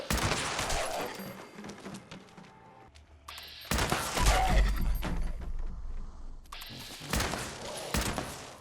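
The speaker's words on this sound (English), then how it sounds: "This is where I like to use the short combat rifle." A short combat rifle fires in the video game Fallout 76, with loud, clattering bursts in three clusters and brief quieter gaps between them.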